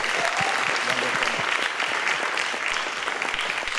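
An awards ceremony audience applauds the emcee with dense, steady clapping that fills the room at an even level throughout, with a voice faintly audible underneath.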